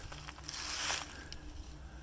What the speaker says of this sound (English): that is the exhaust from the pump